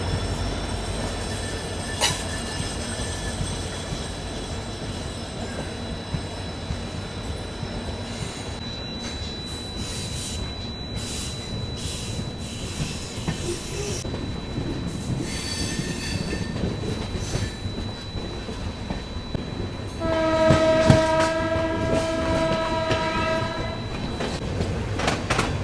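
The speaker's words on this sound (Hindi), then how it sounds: "Bikaner Rewari passenger train." A Bikaner–Rewari passenger train runs on the rails in Rajasthan with a continuous rumble, rhythmic wheel clatter and occasional squeals, and a horn sounds loudly near the end.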